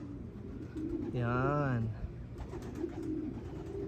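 A pigeon gives a single drawn-out, close coo outdoors over a steady background hum, with someone speaking briefly nearby.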